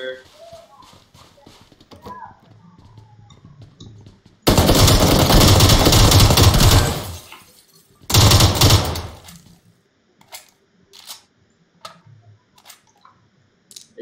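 Loud, close automatic gunfire rattles in two dense bursts during a PUBG PC Lite match on the Miramar map, with speech heard before and between the bursts and lighter ticking game sounds afterward.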